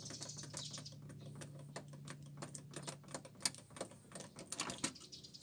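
Lock pick decoder tool working inside a Border 6x6 lock, producing quiet, close metallic clicks and ticks in an irregular rhythm, with a few sharper snaps near the end.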